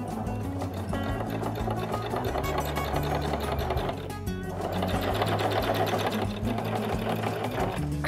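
Sewing machine stitching around the edge of a fabric circle at a half-centimetre seam allowance, a loud close continuous rapid needle clatter with a brief slowdown midway before resuming.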